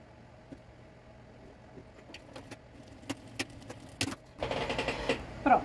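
A sewing machine runs a short burst of reinforced stitching along the edge of a fabric zipper strap, preceded by a few light clicks and handling taps, with no talk.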